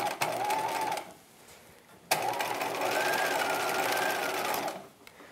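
A sewing machine stitches a seam through many layers of fabric on a 1950s halter dress bodice, running in two long loud bursts separated by a short pause.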